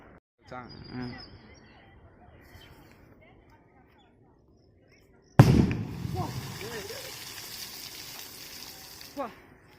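A sharp muffled bang of a firecracker exploding underwater, followed by splashing and churning water, with faint noises and quiet voices before it.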